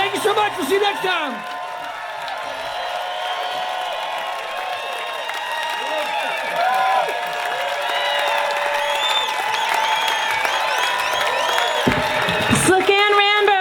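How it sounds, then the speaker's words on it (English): Festival crowd at the Grass Valley fairgrounds applauding a bluegrass band, with sustained clapping, whoops and cheers throughout and a voice speaking over it. "give them a big round of applause."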